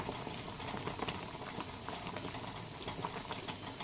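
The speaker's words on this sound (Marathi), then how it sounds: "पालक पण छान उकळते आहे" Spinach boiling in a pot, a faint, steady bubbling patter with small irregular pops throughout.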